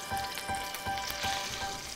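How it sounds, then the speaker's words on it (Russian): Squid pieces fry lightly in a skillet, giving a continuous close sizzle with rapid crackles and small pops, moderately quiet and steady, with no voices. "Слегка-слегка обжарить их и убрать со сковороды в сторонку"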